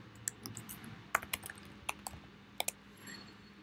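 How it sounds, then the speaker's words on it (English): Fingers tap a computer keyboard while an email address is entered, producing sparse, irregular keystrokes that are close and quiet in an otherwise calm room. "So the user, type your email address here."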